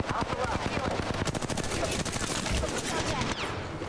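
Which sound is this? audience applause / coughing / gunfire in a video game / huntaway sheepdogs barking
gunfire in a video game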